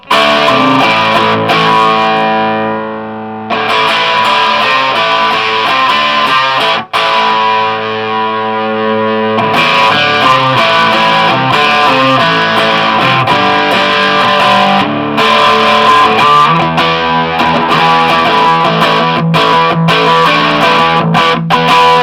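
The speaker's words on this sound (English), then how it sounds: "I always thought the distortion channel sounded pants" Electric guitar played through the distortion channel of a Grainger Blues Twin 30-watt valve combo amp, sustained chords and riffs ringing loud and thick with brief pauses between phrases, no voices.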